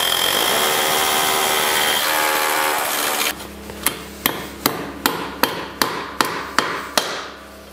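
Drilling into a concrete floor and then hammering anchors into it to fix a U-rail for a partition wall: a loud continuous drill whine, then about ten sharp, evenly spaced hammer strikes close by.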